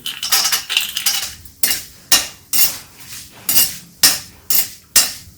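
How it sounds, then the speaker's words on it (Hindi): Almonds and cashews dry-roasting over low heat for a no-oil puffed rice and poha snack, stirred with a metal spoon that scrapes and clatters in a regular rhythm of about ten sharp strokes, close and loud, no voices. "अब इसे हम डाल दे रहे हैं बादाम को। लो आंच पे ही इसे भून रहे हैं।"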